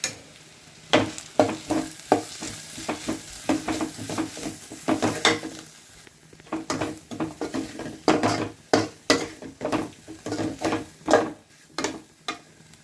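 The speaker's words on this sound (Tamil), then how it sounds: "இந்த ஸ்டேஜில் நாம் ஆனியனுக்கு மஞ்சள்தூள் போட்டு நல்லா வதக்கிக்கலாம்" Onions with turmeric fry in a pan over a steady sizzle, while a spatula scrapes and taps the pan in repeated brisk strokes, close and fairly loud with no voices.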